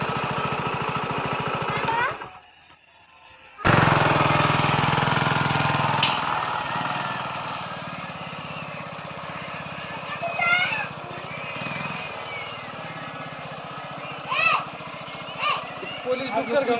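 A motorbike engine runs close and loud, cuts out briefly, then roars back and settles into a steady drone as the rider shifts into first gear, with voices talking over it.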